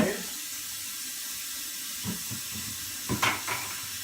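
Water runs steadily from a tap into a bucket while barley fodder is rinsed, a constant close hiss with a few splashes and knocks toward the end.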